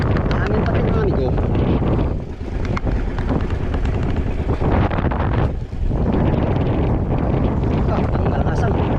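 Strong, continuous wind buffets the microphone with loud roaring gusts over open water in the West Philippine Sea, briefly easing twice; voices are faintly heard beneath it.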